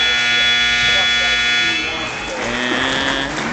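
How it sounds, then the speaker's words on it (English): An end-of-period buzzer at a high school wrestling match blares loudly for about two seconds, then fades into crowd noise while an announcer talks. "They will award 3 points right at the buzzer there for Jacob Lukey."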